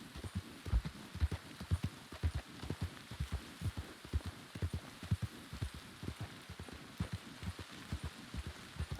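Horse hooves clip-clop steadily in a western roleplay video game, a continuous rhythmic trot of soft thuds at moderate distance with no talk.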